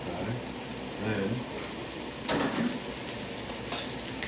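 Seasoned chicken pan-searing with a steady, close, broadband sizzle that swells in a few louder bursts as the meat shifts in the hot pan.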